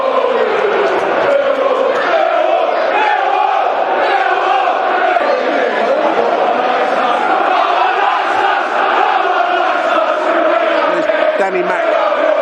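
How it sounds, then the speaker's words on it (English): Football crowd at a Millwall home match against Hull City roaring and chanting after a fluky goal, a dense, loud, continuous wall of massed voices and cheers. "That's got the crowd fired up."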